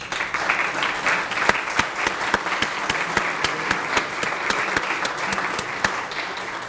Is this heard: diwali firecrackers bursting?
no